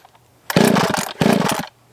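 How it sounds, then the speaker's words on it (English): A vintage Echo 280E chainsaw on a cold start, with two short loud bursts of engine firing close up, each lasting about half a second, separated by a brief pause and followed by quiet. "Turn your saw to the on position. And let's see let's put the safety on just for fun. I'll start it up."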